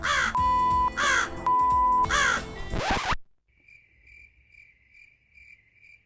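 Loud, harsh crow caws sound four times in a steady rhythm as a comedy-show sound effect, then cut off abruptly into a soft, regular chirping of insects.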